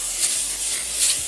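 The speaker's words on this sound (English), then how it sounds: "I still need to lightly spray my pan." Cooking spray hisses onto a foil-lined baking pan in two short, close bursts, a brief pause between them.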